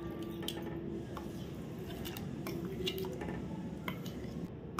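A spoon stirring soaked garden cress seeds into hot milk in a pot, soft wet swishing and light scraping with faint metallic clinks, close and steady, no talking.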